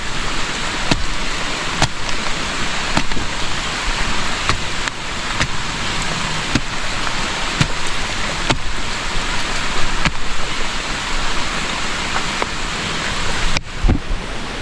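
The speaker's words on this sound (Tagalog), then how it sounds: "Yan, lakas ng ulan." Heavy rain pours down steadily and loudly in an open outdoor setting, a dense continuous roar broken by frequent sharp drips and splashes close by.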